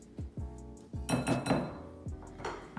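A metal whisk clinks against a mixing bowl of butter and sugar for banana coconut cookie dough, several bright taps followed by a quicker scraping, rattling burst of whisking, close and fairly quiet.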